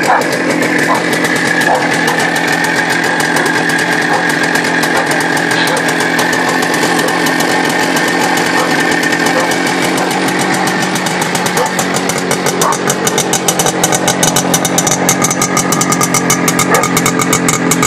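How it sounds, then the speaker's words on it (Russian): A turbocharged Minsk motorcycle engine runs continuously at close range, a loud, steady buzzing drone full of rapid firing pulses that grow sharper toward the end. "Супер-дупер мотоцикл."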